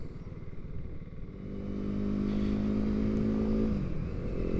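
A KTM Duke 390 engine idles low, then revs up and holds a steady, rising drone for several seconds before easing off, heard fairly close without anyone talking.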